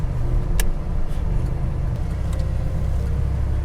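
A 1987 Buick Grand National with the lightweight package runs with a steady, deep engine rumble heard from inside the car while it builds boost, with a couple of brief sharp clicks along the way.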